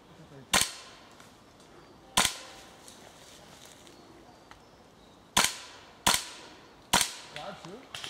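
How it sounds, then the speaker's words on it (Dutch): Sharp single cracks of airsoft guns firing at an outdoor airsoft event, five or six separate shots spaced a second or more apart, fairly close, over a quiet outdoor background with a little faint talk. "Schiet hem dan op!"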